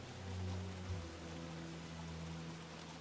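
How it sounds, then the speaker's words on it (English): Heavy rain pours steadily in a survival video game, a dense even hiss of falling water with low background hum and no voices over it. "why is it raining so damn bad?"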